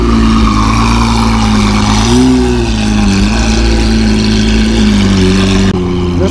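A loud sports car idles at the Daikoku parking area car meet, its engine giving a deep, steady rumble with a slight wavering in pitch, heard close and alone.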